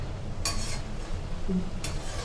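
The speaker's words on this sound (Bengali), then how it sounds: "এভাবে করে মিষ্টিগুলো নেড়ে চেড়ে ভেজে নিচ্ছি।" Maida flour sweets deep-fry in oil under a low sizzle. Two sharp metallic scrapes of a stirring spoon against the pan stand out, and no voices are heard.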